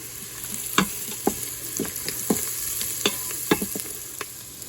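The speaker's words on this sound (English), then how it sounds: "chop up a couple of cloves of that and put in there and let it saute just a little bit" Garlic sautés in a pan with bacon and onions for Southern-style purple hull peas: a soft, steady sizzle broken by sharp spoon scrapes and taps at irregular intervals, close by.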